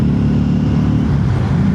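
Harley Davidson Street XG500 motorcycle cruising in the rain, its steady low engine drone rumbling continuously up close, with road and wind noise layered over it and no talking.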